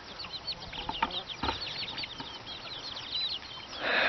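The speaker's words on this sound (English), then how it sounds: "The baby birds." Many small, high-pitched chirps from baby birds begging for food, rapid and overlapping, fairly close, with a brief rustle partway through and a rise in noise near the end.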